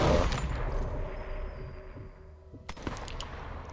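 Sniper Elite 4 rifle gunfire: a loud burst of shots at the start, then a fading reverberant tail and a second sharp report near the end, faint and without talking.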